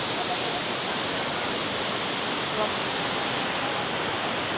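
The Sungduan River at Bolusao, Lawaan, Eastern Samar, swollen after recent rain, surges with a loud, dense, continuous rush of moving water and no pauses.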